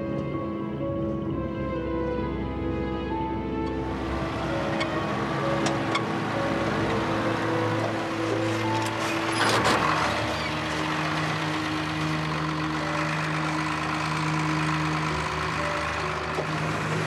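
A truck engine rumbles steadily at low revs in first gear on a wet mountain road in Myanmar, a long stretch with a droning hum and occasional rattles, no speech.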